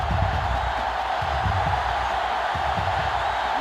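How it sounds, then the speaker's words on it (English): A sellout stadium crowd roars steadily in a college football video game between Ohio State and Michigan, a dense continuous wash of distant cheering and murmur with low rumbling beneath, holding even throughout. "This sellout crowd is really making a difference now as these guys can't even call the play."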